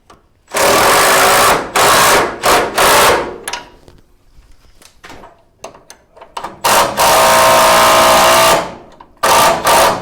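A power tool bolts a car's core support to the chassis in loud, close bursts of rattling impact, several separate runs of one to two seconds with short pauses and scattered clanks between them.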